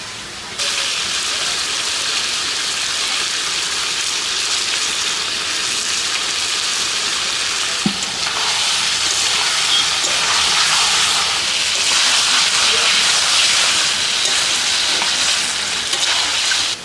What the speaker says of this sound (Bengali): এইভাবে আমি দশ বারো মিনিট ভালো করে কষিয়ে দিয়ে দেবো